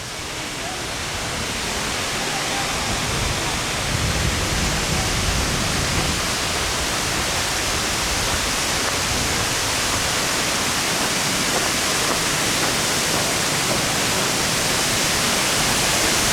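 The Masarè waterfall near Alleghe in the Dolomites roars as a dense, steady rush of water, heard from below, loud and close, building in the first seconds and then holding constant.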